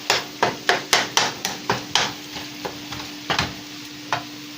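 A utensil breaking up a block of frozen meat in a hot pan, about a dozen sharp knocks in a steady rhythm, loud at first then softer, over a faint sizzle with no voices.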